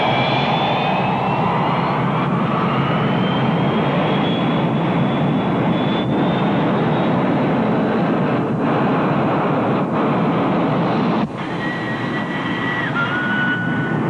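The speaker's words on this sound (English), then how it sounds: "United 101, you're cleared for takeoff." Jet airliner engines roar steadily on a takeoff roll in a dramatized snowy winter setting, a loud sustained whine and rumble with rising tones that holds throughout.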